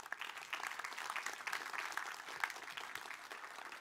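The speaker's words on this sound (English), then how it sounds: "is that polite applause or is that like enthusiastic Stanford applause?" Polite applause from a Stanford audience after a talk: a steady, soft wash of many hands clapping at a distance, even in level throughout.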